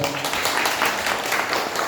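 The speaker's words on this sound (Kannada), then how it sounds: "ಜೋರ ಚಪ್ಪಾಳೆ ಮೂಲಕ" An audience at a gathering applauds steadily, a continuous wash of many hands clapping at even loudness throughout.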